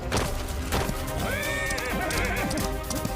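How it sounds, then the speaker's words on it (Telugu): A horse whinnies loudly in a historical drama about Rani Laxmi Bai calling her horse, the neigh rising and wavering over busy background music and clattering hooves. "తను తన గుర్రం బాదల్ని పిలిచింది."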